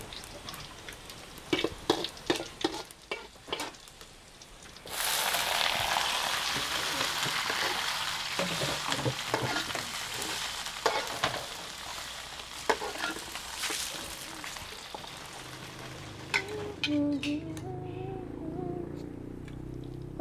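Meat and onion stir-fried in a pan: a loud, steady sizzle rises after a few sharp clatters of utensils, with scraping stirs throughout and a person talking over the frying.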